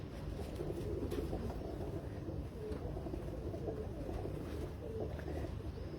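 Pigeons coo softly on a Karachi rooftop, a low, continuous burbling murmur from several birds at close range over steady background noise, with no talking.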